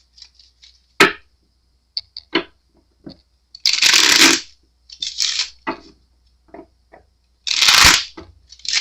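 Tarot clarifier cards are shuffled in several bursts, sharp riffles and snaps separated by quiet pauses, close and clear.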